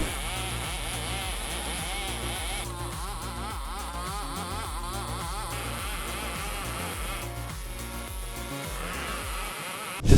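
A Stihl 070 chainsaw with a long bar, used for cutting lumber, runs loud and steady with a continuous buzzing engine drone and a rhythmic low pulsing throughout, close up.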